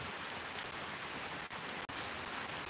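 Heavy rain pours down in Shariatpur, Bangladesh, a constant, even hiss of drops on surfaces all around, with no one talking.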